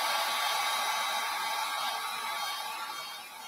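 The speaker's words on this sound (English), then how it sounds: "I'm going to just quick dry. Dry this a little bit to try to speed things up." A hair dryer blows steadily and close up on a piece coated in milk paint, a continuous airy whoosh heard alone that eases slightly toward the end.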